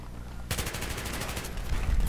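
Sudden burst of rapid automatic gunfire from a Battlefield 3 match, dense crackling shots in quick succession that keep rolling after an abrupt start, loud and close with no voices.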